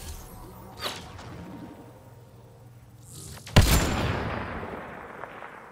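A single loud sniper shot in Mass Effect: Andromeda, a sharp crack with a booming tail that follows a quieter whip-like snap and a faint whoosh earlier, with no talking.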